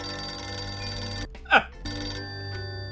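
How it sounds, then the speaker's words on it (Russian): Telephone ringing indoors at night, a bright electronic ring burst with harmonic tones rising briefly in the middle, set against steady background music. "Телефон?"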